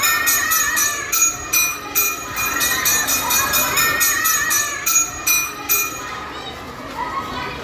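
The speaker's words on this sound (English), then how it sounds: "Bell rang for the next class." A school bell rings for the next class in quick, repeated metallic bursts over a lively crowd of children chattering and playing nearby.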